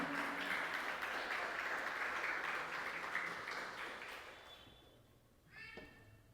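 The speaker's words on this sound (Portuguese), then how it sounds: "Aplauda Jesus bem forte nesta manhã" A church congregation at the First Presbyterian Church of São Paulo bursts into loud, dense, sustained applause during a Bible study on Isaiah. The applause fades away over several seconds, leaving near-silence and a faint voice at the end.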